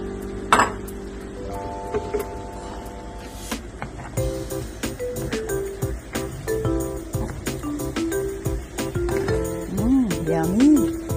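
Saba bananas going into a pot of thick, bubbling sugar syrup, with metal utensils clinking and scraping against the pot over a soft simmer and steady background music.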